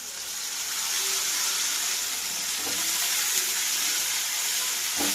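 Chopped eggplant fries in a hot pan with a steady, hissing sizzle that holds close and even throughout, with a few faint clinks and stirs and no talking.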